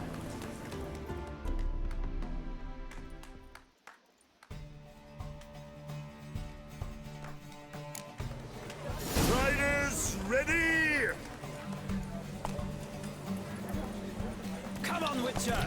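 Horse hooves clip-clopping in The Witcher 3 during a race on the Zerrikanian Bay, rhythmic footfalls under game music with a horse whinny and spoken voices partway through.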